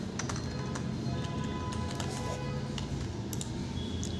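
Steady fast typing on a computer keyboard, soft close clicks in quick irregular bursts over a faint hum, with no voices.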